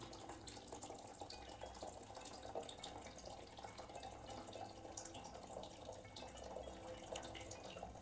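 A thin falling stream of water, used to guide a laser beam in a total internal reflection demonstration, trickles with a faint, steady splashing hiss that continues evenly throughout.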